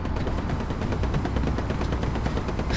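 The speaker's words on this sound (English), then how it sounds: "This guy's mag dumping his 50. I don't think he's let off the trigger in a hot minute." A .50-caliber machine gun in a Sherman tank video game fires nonstop, a rapid, relentless stream of loud, close shots that never pauses.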